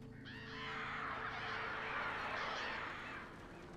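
Crows caw in Alan Wake Remastered, a harsh, raspy wash of calls that swells for about three seconds and then fades, fairly loud and without any talk.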